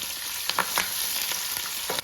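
Green chillies and curry leaves fry in hot oil for a tamarind pulusu, a loud continuous sizzle with sharp crackles and stirring clicks throughout.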